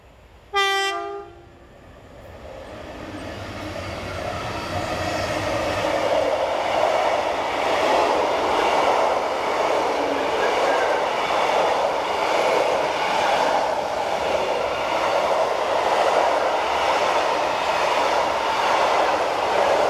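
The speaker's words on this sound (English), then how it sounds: "Following a period of inactivity, the Carlisle to Chirk log train resumed running in early September." A Carlisle to Chirk log train hauled by locomotive 70810 sounds a short horn blast, then its engine and wagons build into a loud, sustained rumble as it passes close by.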